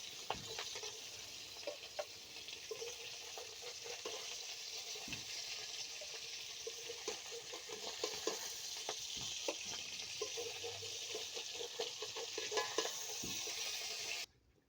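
Boal fish frying in hot oil, followed by a panch phoron tempering, gives a steady close sizzle throughout, dotted with faint clicks and stirring knocks, with no talking.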